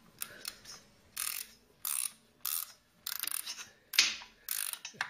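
A ratchet spanner tightening bolts on a Mk3 Cortina during classic car restoration, giving quick bursts of bright clicking, about seven separate runs with short pauses between them, close and fairly quiet.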